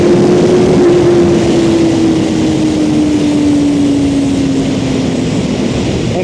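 Suzuki GSX-R1000R motorcycle engine droning loud and steady at speed, with a slowly falling pitch as it works through a gear change, plus wind roar throughout and no talking.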